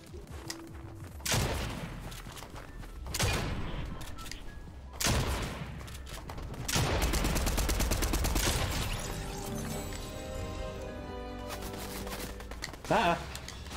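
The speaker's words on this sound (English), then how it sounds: "what's this gun called? Striker pump shotgun." Gunfire in a Fortnite-style battle royale game with a Striker pump shotgun, several heavy booming blasts with rapid shots and sustained fire between them, loud and close, mixed with game effects and a voice.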